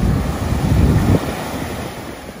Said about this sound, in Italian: E ancora una volta mare mosso a Numana